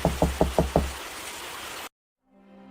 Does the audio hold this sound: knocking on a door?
yes